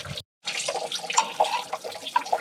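Coolant runs out of an old B414 tractor in a steady trickle and splash, with small drips and gurgles; a short break is heard near the start.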